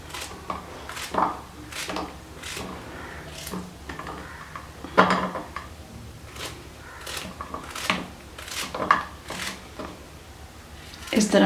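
A knife cuts through tinda (apple gourd), giving a series of dull, irregular chopping knocks close by, with a low background hum.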